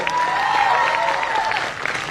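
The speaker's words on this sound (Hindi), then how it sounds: "जोरदार ताली इसके लिए।" Sustained audience applause fills an auditorium aboard a cruise ship, steady and dense throughout, with faint tonal sounds threaded underneath.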